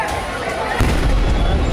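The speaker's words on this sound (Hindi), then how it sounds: "नया धमाका होता है और आग की लपटें और ऊंची उठ जाती हैं" A truck blast in Dharavi sets off a fire, and a deep, booming explosion bursts out under agitated voices and crowd noise, followed by a sustained rumbling roar.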